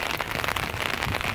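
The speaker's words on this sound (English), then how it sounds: "Raining in LA." Rain falls in Los Angeles, a brief, steady hiss of dense droplets pattering on surfaces, with no voices.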